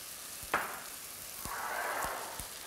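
Chicken stir-fry sizzles quietly in a pan, with a soft hiss swelling midway and a few light clicks and taps from stirring, no voices.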